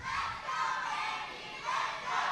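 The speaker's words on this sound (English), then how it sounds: "listen to this crowd here at the Bullet on the Bayou. I think every single member of our DCW fans are chanting for Andy V10 Hansen" Wrestling fans at a DCW event at the Bullet on the Bayou chant for Andy V10 Hansen, a dense roaring crowd sustained throughout with rising swells, loud and filling the space.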